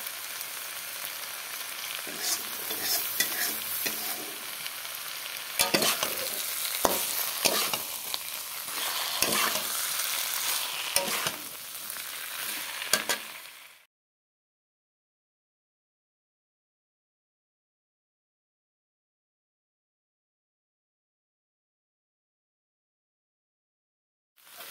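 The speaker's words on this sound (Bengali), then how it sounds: "আমার ঝিঙ্গা আলু ভাজা হয়ে গেল" Ridge gourd and potatoes fry with spices in a pan, a close, dense sizzle with frequent spatula clatters for about fourteen seconds before the sound cuts off to silence.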